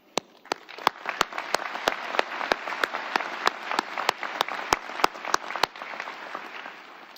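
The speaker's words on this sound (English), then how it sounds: "I know all too well that the journey was not simple, but you made it, and for that we applaud you." An audience at a graduation ceremony applauds the graduating class with a sustained wash of clapping, punctuated by a series of sharp, evenly spaced claps ringing out through it, then fading away.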